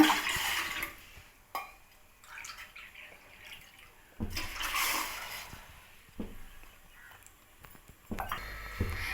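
Water splashes and pours in a few short bursts into a cooking pot for vegetable soup, close by, separated by quiet gaps.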